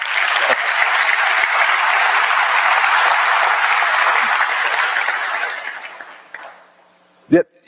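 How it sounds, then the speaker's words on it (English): Sustained audience applause at a military conference event for Senior Airman Miller, steady and full for about six seconds before tapering off, with a brief thump near the end. "let's give her another round of applause"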